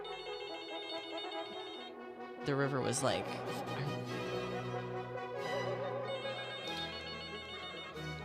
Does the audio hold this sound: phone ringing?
yes